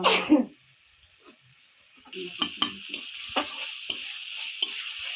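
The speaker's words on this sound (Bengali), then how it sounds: "নারকেলের দুধ দিয়ে দিয়ে মশলাটাকে ভালো করে কষিয়ে নেব" Spice paste cooked down with coconut milk for an egg malai curry sizzles steadily once stirring begins, with intermittent spatula scrapes and taps after a short quiet stretch and a faint voice-like sound at the start.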